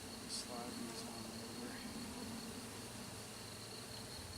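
A package of honey bees being installed among hive frames gives off a continuous buzzing hum, close and even throughout, with faint brief tones early on.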